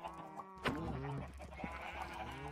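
Chickens in the Minecraft video game cluck and squawk faintly in quick, overlapping calls, with a sharp sound near the start.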